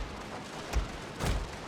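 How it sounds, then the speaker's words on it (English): Two muffled cannon shots boom in a Total War battle, one after the other less than a second apart, fairly quiet over a low ambient bed. "I'm gonna move you to open up with this cannon to be able to fire."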